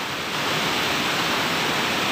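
Steady, loud, unbroken roar of a waterfall at the end of the Citi'is river, a dense rushing wash of falling water with no pauses.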